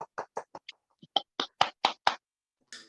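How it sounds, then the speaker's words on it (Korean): A small audience at a Korean book publication celebration claps in a sparse, uneven burst. About a dozen distinct, close hand claps are heard with short gaps between them before the clapping fades out. "모두 뜨거운 박수 부탁드리겠습니다"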